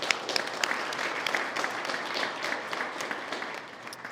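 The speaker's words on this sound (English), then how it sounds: "I think that deserves a round of applause" An audience at a golf championship charity presentation gives a round of applause, a dense, even crackle of many hands clapping, somewhat distant and fading slightly toward the end.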